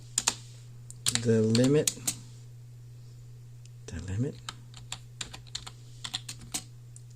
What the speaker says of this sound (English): I can type it in